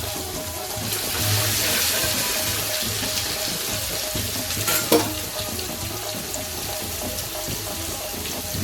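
Cumin and garlic hit hot oil for a grouper fish curry, a steady, loud hiss of frying with a brief clink partway through.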